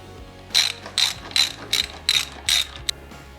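A ratchet tightens stock hardware, treated with blue Loctite, on an S&S brake pedal kit fitted to an M8 Harley-Davidson Softail: seven short, crisp ratcheting bursts in an even rhythm, close and clear, with no talking.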